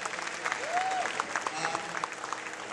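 Steady applause from a crowd, dense and fairly loud throughout, with a voice briefly audible over the clapping.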